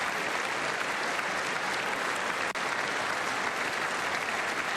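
Sustained applause from the chamber audience at a presidential State of the Union address, a dense even roar of clapping, loud and unbroken with no speech over it.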